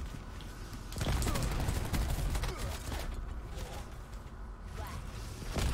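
Rapid bursts of video game gunfire, dense crackling volleys close up and loud, with faint talk mixed in.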